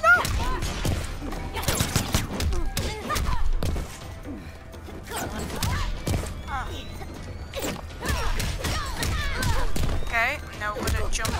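Rapid bursts of bullet gunfire in the fighting game Mortal Kombat X, crackling in repeated volleys with thuds and crashes mixed under excited talk, game music and effects throughout.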